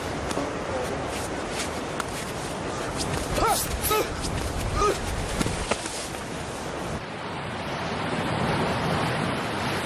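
Wild sea surf crashes against volcanic rocks on the Tenerife coast, a loud, continuous wash with wind buffeting the microphone, swelling again toward the end.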